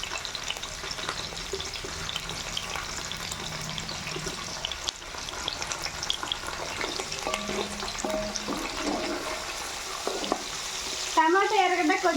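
Curry leaves and tomato pieces sizzle steadily in hot frying oil for a village-style raw fish and tamarind-leaf curry, a continuous close crackle with occasional stirring and a brief high chirping near the end.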